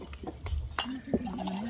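Glasses clink a couple of times during a toast at a wedding reception, short bright taps mixed with brief voice sounds in a lively room.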